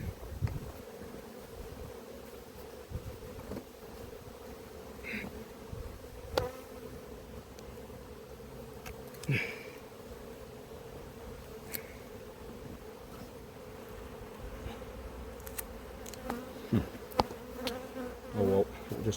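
Honeybees buzz around the hives of an apiary in a continuous, steady drone, with occasional louder individual bees passing close by and faint rustling.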